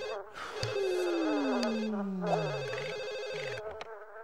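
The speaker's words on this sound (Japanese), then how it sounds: "電話や。 電話出れるか?" A phone rings in The Sims-style life-simulation game, a steady electronic ringtone with a sliding tone running through the whole stretch, fairly loud and alone with no talk.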